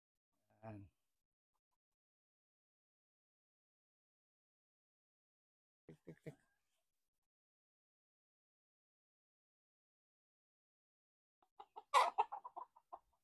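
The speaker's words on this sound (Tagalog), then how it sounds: "Ito yung ginawa kong brood stag." A brood stag rooster, an SBR cross on Milson's Black, gives a short call near the start, then a brief burst of clucks around six seconds and a busier flurry of calls near the end, each separated by silence.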